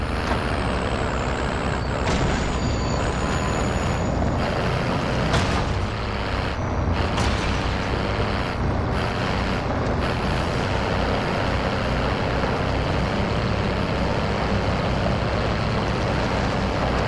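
A truck driven in a PS4 video game, its engine a loud, steady drone with hissing air-brake bursts and short sharp noises scattered through the first half, without speech.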